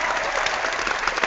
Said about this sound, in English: Let's just get a round of applause for that teacher.